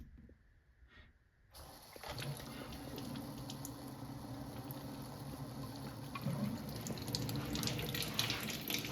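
Water streams steadily from an Enagic Kangen Leveluk K8 water ionizer machine, starting after a brief quiet moment and then running continuously at a soft, close level.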